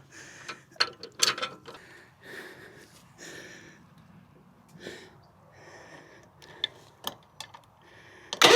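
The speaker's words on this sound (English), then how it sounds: "So I can just put this in and ratchet it." A ratcheting tie-down strap on an ATV flail mower setup is cranked tight in a run of sharp mechanical clicks and ticks, close and fairly loud, with uneven pauses between bursts.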